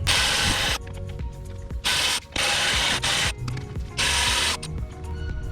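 Ratchet wrench tightening brake caliper bolts on a car during a backyard brake pad and rotor job, with repeated loud bursts of clicking and grinding separated by brief pauses.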